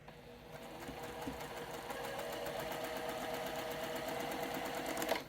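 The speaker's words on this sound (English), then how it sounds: "Take a few stitches or almost my halfway point." A sewing machine stitching a fabric quilt block, a steady close rapid mechanical whir and needle patter running continuously for several seconds, fairly quiet with no talking.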